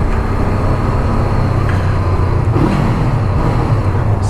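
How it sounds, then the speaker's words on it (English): A Honda CB500F motorcycle's exhaust rumbles loud and close inside a tunnel during a demo ride, a continuous engine drone that echoes off the walls without letup. "Let's listen to the exhaust though under this tunnel."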